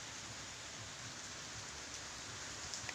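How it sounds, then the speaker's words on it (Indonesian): Steady rain falls during a flood period, a dense, even hiss of drops with no breaks or rises, close and constant for the whole stretch with no voices over it. "hujan sampai hari ini"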